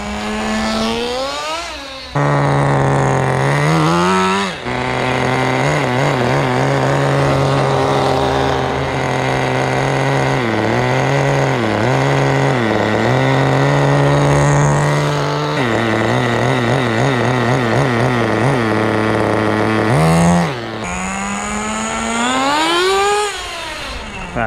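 Thunder Tiger TS-4n nitro RC touring car engine revving hard and close, its high buzzing whine sweeping up and down with repeated throttle blips and brief cuts, loud and alone.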